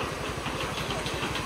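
Motorcycle engines churn at mid revs on a flood-damaged road, a loud, steady, close rumble with no talk over it.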